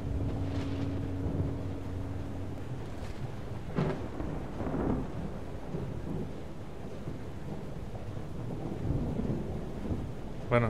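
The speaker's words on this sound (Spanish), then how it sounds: "Nosotros evadiendo aquí la tormenta." Rain and rolling thunder from a storm in the video game FAR Changing Tides, a constant wash of rainfall with a few sharper thunder cracks, loud and steady throughout.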